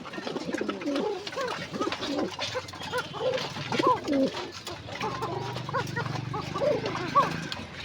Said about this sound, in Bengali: দেখেন কবুতরগুলো খাইতেছে, কবুতরগুলো সব খাইতেছে মাশাআল্লাহ।